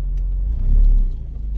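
A car pulls into a garage to park, its low engine rumble swelling to a close, loud peak midway and then easing off, with no talking.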